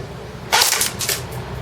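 A CYMA Galil airsoft rifle fires semi-automatic 0.2 gram BBs through a chronograph on an 8.4 volt battery, giving a single sharp, close snap followed by a few fainter clicks.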